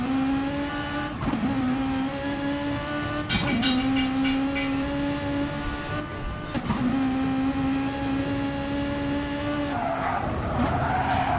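A car in Gran Turismo Sport at Kyoto Driving Park drones with a steady engine tone, broken by repeated tyre squeals and skids as it is thrown into corners, with a handbrake turn near the end and no voices.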